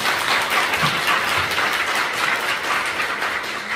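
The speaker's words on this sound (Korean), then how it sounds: "여성 건설 노동자분들을 위해서 다시 한번 박수" A crowd claps loudly and continuously for women construction workers at a lawmaker's final legislative report gathering, a thick, sustained wash of applause with no pause.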